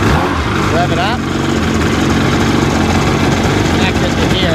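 A Sea-Doo GTX DI personal watercraft engine runs at low RPM with a steady, close mechanical drone, while people talk over it throughout.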